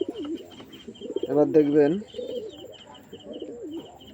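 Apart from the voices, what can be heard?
pigeons cooing, a female pigeon being shown for sale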